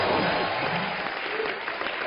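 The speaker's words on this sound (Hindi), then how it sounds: "एक बार लॉरेन, जैकी और अरशद वारसी के लिए जोरदार तालियां हो जाए" A studio audience breaks into loud, dense clapping right after a host calls for applause for Lauren, Jackie and Arshad Warsi, sustained close and even for the whole stretch.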